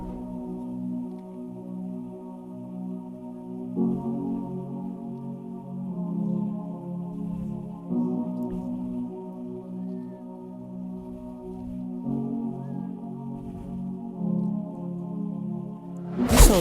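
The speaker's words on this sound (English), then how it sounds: "This sound was gotten from a plugin called DRC, and we are using the preset called the Floating Spirit" Sustained synth chords from the DRC plugin's Floating Spirit preset, shaped with EQ, swell and change every few seconds in a soft, full pad with no one speaking.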